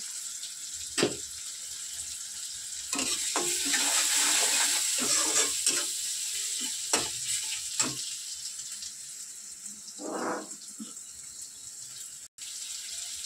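Turmeric powder goes into a frying dish and gets stirred, making a steady sizzle of frying food with scattered scrapes and clinks from stirring and a brief louder burst near the end, close by with no talk.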